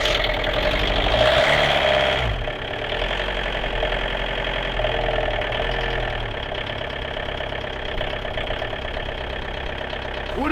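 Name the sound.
diesel car engine running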